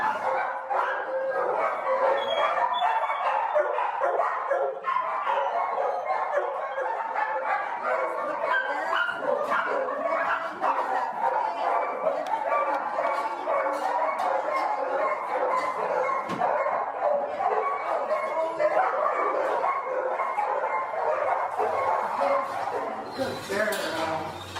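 Dog barks and yips repeatedly through a domestic morning scene, with steady overlapping barking and whimpers at close range while people talk over it.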